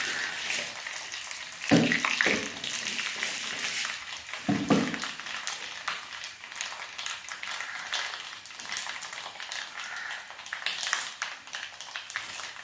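Dried chillies and fenugreek seeds go into hot oil with popped mustard seeds, and a steady close frying hiss with a couple of louder sputtering bursts early on fills the pan, no voices.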